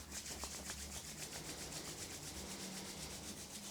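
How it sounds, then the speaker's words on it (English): Palms of the hands rubbed together during an evening yoga session, a soft, steady, rhythmic swishing friction close to the ear and faint overall. "Rub the palms of the hands together."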